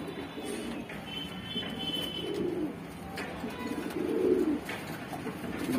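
Pigeons cooing close by in a loft, soft low rolling coos repeating every second or two over a faint background hum.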